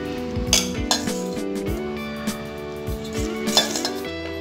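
Mixed lentil bhel being scooped into a serving bowl, with light metal spoon and bowl clinks and scrapes in quick irregular bursts, close by, over a faint tonal background.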